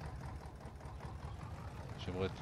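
A tractor engine idles in Farming Simulator 22 with a steady low rumble, while a voice talks faintly in the background.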